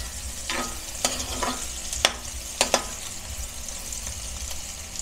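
Bihon noodles with upo fry in a pan while being stirred, a steady sizzle broken by several sharp scraping clinks of the utensil against the pan.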